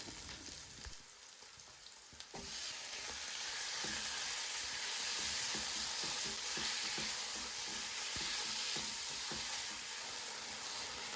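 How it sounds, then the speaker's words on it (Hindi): Boneless chicken frying in a pan, a quiet, steady hiss of sizzling oil with faint irregular crackles and soft stirring scrapes, heard at a distance with no voices. "बोनलेस चिकन को 2 से 3 मिनट के लिए हमने फ्राई किया।"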